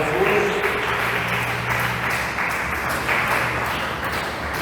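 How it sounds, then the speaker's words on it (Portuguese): A church congregation claps joyfully during a worship service, a full steady round of applause with a faint low tone beneath it and no voices. "dê uma salva de palmas bem alegre para Jesus"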